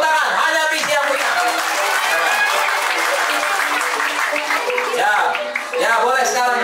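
Loud, sustained applause from a camp audience at a villa, dense clapping with chatter and voices mixed in over it.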